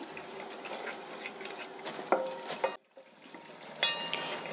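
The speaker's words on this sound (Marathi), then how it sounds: "तेल चांगलं तापलं की त्यात आपल्याला वाटण टाकून घ्यायचं आहे आपल्याला हे वाटण मीडियम गॅसच्या फ्लेमवर एक ते दोन मिनटं चांगलं परतून घ्यायचं आहे" Ground masala paste sautéing in hot oil over a medium gas flame for chicken rassa, a soft steady sizzle with a few scraping stir clicks, briefly dropping away before resuming faintly.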